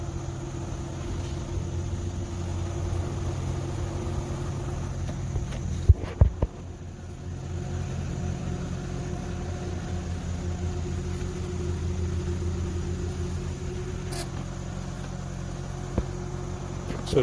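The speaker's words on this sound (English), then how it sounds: "the fans are going actually quite well" A Naiveroo 25W solar-powered exhaust fan runs on a chicken coop in sunshine, giving a steady low hum and drone throughout, broken only by a brief knock and dip near the middle.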